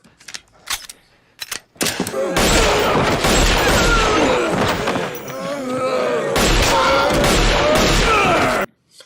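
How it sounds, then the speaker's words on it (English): Pistol gunshots in a Walking Dead TV scene: a few sharp isolated cracks followed by long stretches of loud, rapid repeated fire, with a brief lull before another dense burst, then abrupt silence. "You'd think he'd know how to shoot a pistol, but apparently not."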